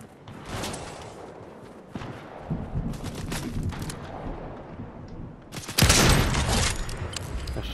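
Bursts of gunfire in the video game Fortnite, irregular volleys of shots with a louder, denser burst near the end, fairly close and continuous.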